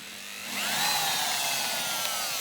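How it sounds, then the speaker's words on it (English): Electric drill running steadily with its trigger locked on, a continuous whine that holds at one pitch after a short spin-up, alone and fairly close. "So this is a locked drill, and it's a lock trigger"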